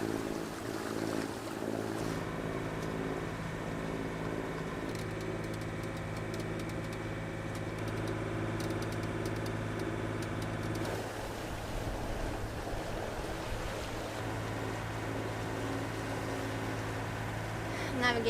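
A sailboat motoring through Wrangell Narrows out of Petersburg near high tide with the current behind it, a steady engine drone and water rush running unbroken throughout, with no voices.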